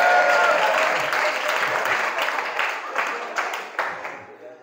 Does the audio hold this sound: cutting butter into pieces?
no